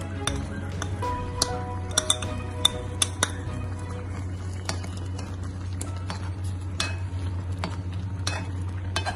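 Ground coconut being stirred into cooking mango pachadi: a spoon scrapes and clinks against the pot with light bubbling, over a steady low hum.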